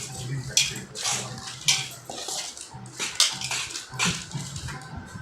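Spoon scraping and clinking in a bowl while mixing fenugreek powder, cumin powder, chilli powder and salt for ginger avakaya pickle, repeated close scrapes and taps in an uneven rhythm.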